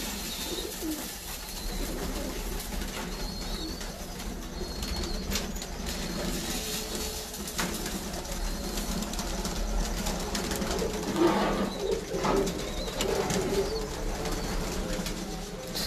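Breeder pigeons in a loft, soft scattered cooing and a few wing flaps heard at a distance against a constant background hiss, never loud.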